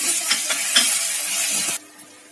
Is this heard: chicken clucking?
no